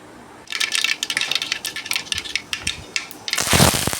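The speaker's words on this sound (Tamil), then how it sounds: "கடுகு வெடிக்கட்டும்." Mustard seeds crackle in hot oil for a home-style potato and brinjal poriyal: rapid close pops and sputters run steadily, swelling into a dense, louder burst near the end.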